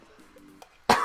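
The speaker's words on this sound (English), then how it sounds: "I'm sorry, dog, that I have to clear my throat." A single throat clearing, short and harsh, bursting out loudly near the end after a moment of faint background quiet.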